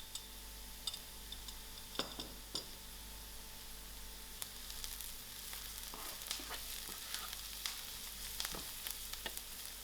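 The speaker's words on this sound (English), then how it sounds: "My onions are brown lightly and I'm going to add in my crushed garlic to it." Lightly browned onions frying with crushed garlic for lamb-stuffed peppers, a low steady sizzle broken by scattered clicks and utensil scrapes, fairly quiet and without talk.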